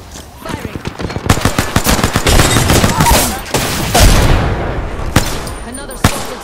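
Rapid automatic gunfire from the video game Apex Legends, dense bursts of sharp shots with a few louder booms, loud and close, while a game voice calls out over the action.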